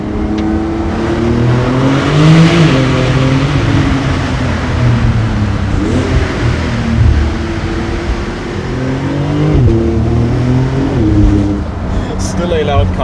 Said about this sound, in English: Still a loud car.